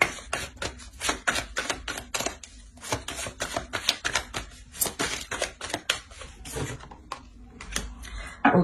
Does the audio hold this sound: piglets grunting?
no